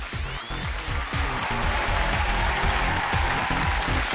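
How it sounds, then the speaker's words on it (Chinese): Studio audience applause on a Chinese marriage-counselling TV show stage, a dense steady clapping wash that runs loud throughout as a guest is welcomed, with no talk over it. "掌声有请"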